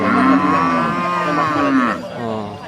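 A young cow moos loudly and close by at Na Lom cattle market in Phang Khon, Sakon Nakhon, Thailand, one long drawn-out bellow that wavers in pitch and trails off.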